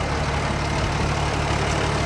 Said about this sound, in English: I love the sound of this old tractor